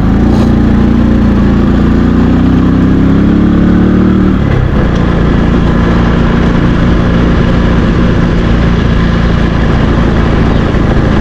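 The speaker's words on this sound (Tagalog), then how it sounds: "Dahil sa maaga pa naman, kaya makapasok pa yung motor." A motorcycle rides in close by with its engine running loudly throughout. A steady idle shifts in pitch partway through as the bike moves, and the engine noise fills the clip with no speech.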